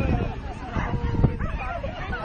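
A dog barks and yips amid the noise of an outdoor dog scurry race, with a Rottweiler and a Jack Russell among the dogs, short barks over crowd chatter and someone talking nearby.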